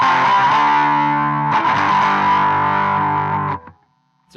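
Electric guitar played through an Aclam Go Rocky Go pedal in its mid-range boost mode: two sustained distorted chords with a boxy, nasal midrange, the second struck halfway through, ringing loudly before being cut off abruptly near the end.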